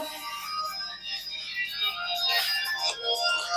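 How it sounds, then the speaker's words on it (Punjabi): A melodic electronic phone ringtone plays continuously at moderate volume, with no one speaking over it. "ਲੱਗਦਾ ਫੋਨ ਆ ਗਿਆ ਕਿਸੇ ਦਾ"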